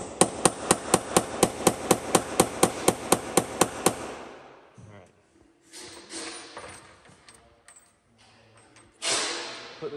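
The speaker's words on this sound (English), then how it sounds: "you got to center punch these rivets and hope that they're pretty close to the center" Sharp metallic hammer strikes on a center punch ring out in a steady rapid series of about sixteen blows as rivets on a new Peterbilt 389 truck cab are marked, followed by quieter clinks and handling noises.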